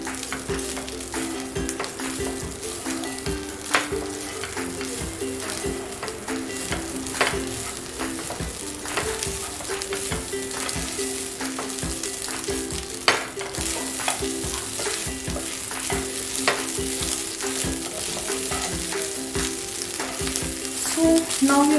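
Corn fried rice frying over a high flame in a pan, with a steady loud sizzle and frequent scraping, clattering stirs of a spatula throughout, no talking.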